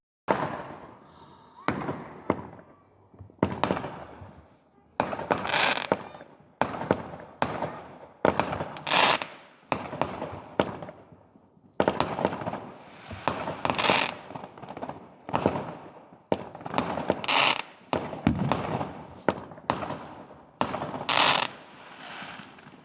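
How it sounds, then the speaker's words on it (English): Fireworks and firecrackers bursting outside on Bonfire Night, a long run of sharp cracks and booming pops at irregular intervals, some clustered in rapid volleys, fairly loud with no talking. "I'm gonna go have some fireworks."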